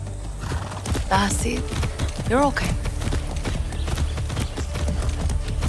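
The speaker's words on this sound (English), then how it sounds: "Hey, horse, ready to go?" Horse hooves clip-clop in a steady, close rhythm in the video game Far Cry 6, a brief whinny rising over the gait while a voice speaks calmly over the hoofbeats.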